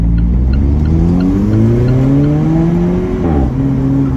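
An Alfa Romeo 4C Launch Edition's engine roars close up as it accelerates hard from 0 to 50, its pitch climbing steadily, dropping briefly at a gear shift, then climbing again.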